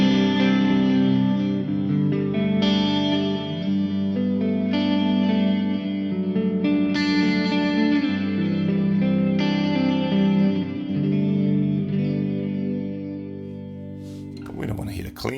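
Clean electric guitar through a Genome amp simulator, played with a ping-pong delay set to eighth and quarter notes and a studio flanger, ringing sustained chords that swirl and echo, ending in a brief burst of noise.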